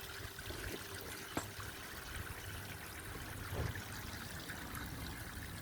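Garden water feature trickling into a pond outdoors, a constant gentle stream of running water close by with no speech over it.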